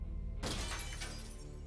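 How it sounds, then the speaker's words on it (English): A glass window shatters after a thrown brick hits it inside an abandoned building, a sudden loud crash followed by a burst of breaking, tinkling shards that trail off over about a second. "I was happy to hear the satisfying sound of shattering glass"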